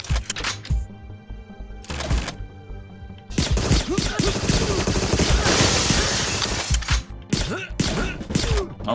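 Gunfire in a video game, with a few sharp isolated shots followed by a long dense burst of rapid fire and clattering, then scattered final shots, loud and close.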